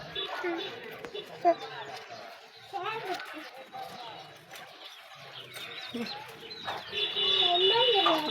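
Hens on a rooftop cluck and chirp intermittently close by while people talk over them throughout.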